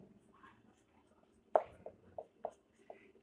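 Chalk or marker writes on a board in a math class, a handful of short faint scratchy strokes in an uneven rhythm within a quiet room.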